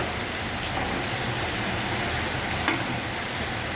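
Sliced onion with chili powder sautéing in a pan: a dense, even sizzling hiss that stays loud and steady throughout, with one brief faint tap near the end.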